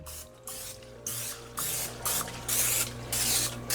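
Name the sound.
spraying canola oil into a pan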